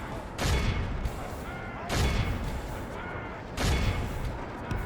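Troops firing volleys in Medieval 2 Total War, heard as three loud booming gunfire bursts roughly every one and a half seconds, each followed by a rumbling decay, over steady battlefield noise.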